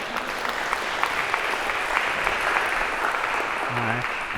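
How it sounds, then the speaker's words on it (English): Steady round of applause from a lecture-hall audience in a computer science class, dense and even for several seconds, with a brief voice surfacing near the end. "maybe a round of applause to break the awkwardness here"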